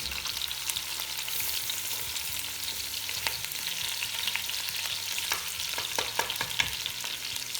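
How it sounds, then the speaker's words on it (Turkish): Tomato paste frying in a pan for a bean stew crackles with a steady, loud sizzle throughout, dotted with sharp pops and a few scraping stirs near the end. "Yine salçayı da taban kısmına ilave ediyoruz."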